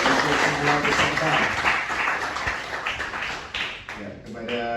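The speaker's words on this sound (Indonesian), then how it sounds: "Tepuk tangan untuk semua peserta." Applause for the participants of a school religious quiz final, sustained crowd clapping throughout, fairly loud and dense, with voices mixed in underneath.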